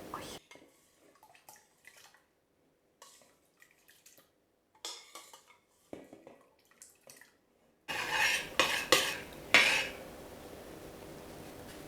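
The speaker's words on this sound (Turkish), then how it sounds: "Pirinçleri içine ilave ediyorum." Rice pours into a large pot already filled with water and is stirred, heard first as sparse drips and clinks of utensils against metal, then a louder burst of rushing, splashing water and scraping near the end.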